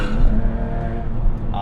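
A modified budget Porsche 911 built as a GT3 imitation revs its engine steadily and loudly while driving, holding a dense, continuous tone close to the car for under two seconds.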